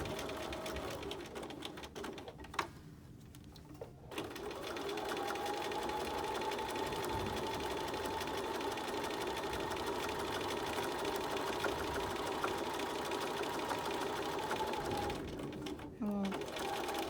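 Close and steady, a sewing machine stitches through the pleats of a two-layer fabric mask, running continuously for most of the stretch after a brief pause near the start, with a voice talking faintly over it.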